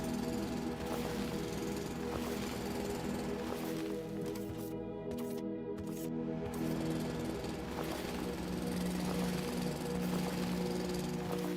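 Boilers and turbines run in the factory game Foundry, a dense, steady mechanical drone with layered hums and rattling pulses, continuous and loud, with a brief dip in the upper tones midway.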